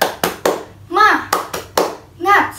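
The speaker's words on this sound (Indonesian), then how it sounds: "Tepuk semangat." First-grade children in a classroom do a rhythmic spirit clap, sharp sets of hand claps in a quick pattern broken by short chanted shouts from the group, close and loud.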